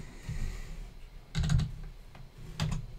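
Computer keyboard typing in a few short bursts of clicks, close and fairly loud, with quiet gaps between them while numeric probing values are entered in CAM software.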